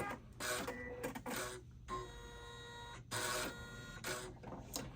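Embroidery machine running travel stitches while making a fabric appliqué in-the-hoop bag, a steady fast mechanical whir and needle chatter in short bursts with brief pauses, fairly quiet and close, no voices.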